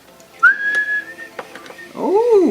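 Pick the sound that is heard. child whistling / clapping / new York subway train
child whistling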